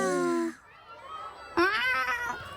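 Cartoon cat meows twice, first a long mid-pitched meow, then a pause, then a louder, rising second meow that trails off, close and clear with no talking.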